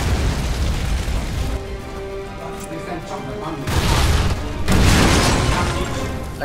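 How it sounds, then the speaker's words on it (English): Explosions in the video game Resident Evil 6 during a river boat battle, two loud booming blasts a second apart near the end, following a stretch of gunfire and game noise. "Explosions! Let's go!"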